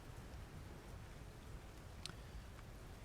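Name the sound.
rain pattering on a wooden dock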